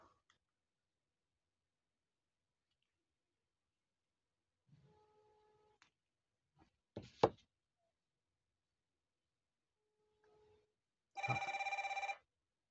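X3 Pro smartwatch ringing for an incoming call over a second Bluetooth connection: a few soft clicks and taps in near silence, then a short burst of bright electronic ringing near the end.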